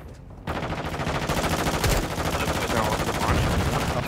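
Rapid, sustained automatic gunfire in the video game Modern Warfare 2, loud and dense after a brief quiet start, with continuous bursts running unbroken to the end.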